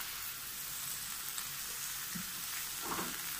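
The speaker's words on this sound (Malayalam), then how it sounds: "ഇത് നന്നായി ഒന്ന് ഇളക്കി കൊടുക്കുക." A lemon pickle mixture stirred in a pan just after vinegar goes in, giving a soft continuous sizzle with faint scraping movements near the end, quiet and close with no voices.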